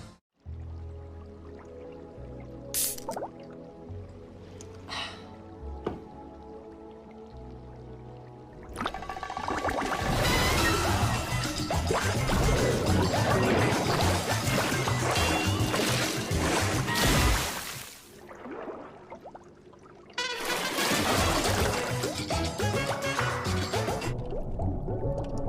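Mount Franklin lightly sparkling water pours and fizzes in two long loud bursts, with a short pause between them, following quieter clinks and a soft musical backing at the start.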